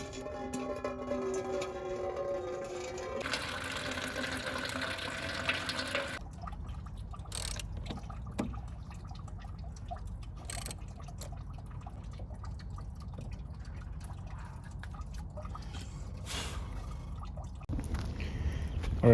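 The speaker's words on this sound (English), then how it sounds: "I'm gonna start by draining the coolant first" Coolant drains from a Toyota 4Runner radiator in a steady, continuous liquid trickle and drip. It runs close and fairly constant for the whole stretch, with a few brief clanks and knocks over it and no talking.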